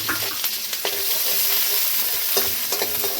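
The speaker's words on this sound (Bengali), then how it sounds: "ফোড়নে দিয়ে দিচ্ছি রসুন কুচি, আদা," Chopped garlic, ginger and green chili frying in hot oil for chili chicken, a loud continuous sizzle broken by a few sharp scraping stirs of a spoon.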